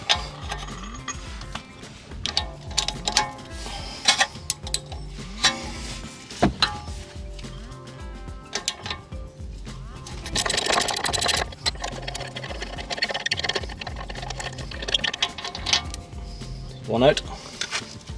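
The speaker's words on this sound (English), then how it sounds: "I'll see if I can get a ratchet on it." A ratchet clicks in rapid, uneven bursts while working a 16mm bolt on a BMW E90 brake caliper, with scattered metallic clinks and tool noises nearby.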